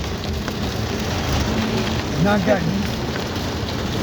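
Rain pouring down on a road at night on the Fourth of July, a dense steady hiss over a low rumble, with someone speaking briefly over it.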